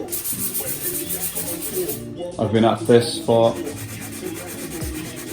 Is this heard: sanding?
yes